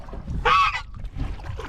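A goose honks once, loud and close, a single harmonic call of about a third of a second while riding along in a canoe, with water and paddle noise before and after.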